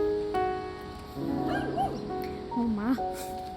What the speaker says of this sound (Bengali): পাশে একটা কুকুর